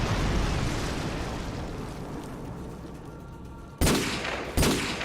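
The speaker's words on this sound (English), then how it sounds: "Let's wait for that airstrike to come on." Two heavy airstrike explosions in Call of Duty Modern Warfare II boom out loud and close after a stretch of rumbling battle noise, the second blast following less than a second after the first.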